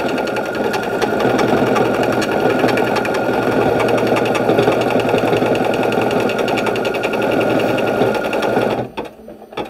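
An embroidery machine stitches a design in a DIME sticky hoop with a steady, dense, loud whirring hum. It runs continuously for about nine seconds, then stops abruptly near the end.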